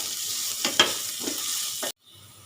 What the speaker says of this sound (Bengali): এবারে সব মশলাগুলো ভালো করে একটু কষিয়ে নেব